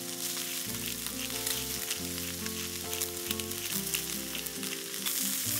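Steak seasoned with salt and pepper sizzles steadily on a thick outdoor iron griddle at a camp setting, a dense crackling fry with faint tonal hum underneath and no talking.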